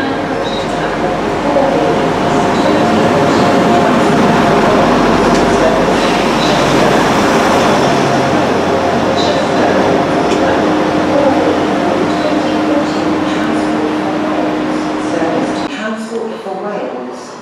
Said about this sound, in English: Train now approaching platform 4.